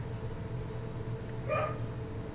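A puppy yips in a short burst of high barks in the middle, heard over a steady low background hum inside The Stanley Parable video game.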